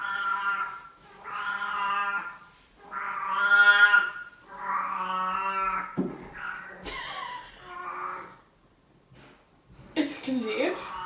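A Savannah cat in heat yowls in a run of long, drawn-out, wavering meows close by, several in a row, followed by shorter cries and a sharp burst near the end.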